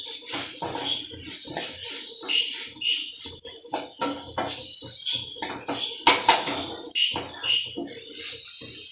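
Metal spoon clattering and scraping in a pan as spice powders and pepper are stirred into a curry, a busy run of uneven knocks and scrapes, close and fairly loud, without speech.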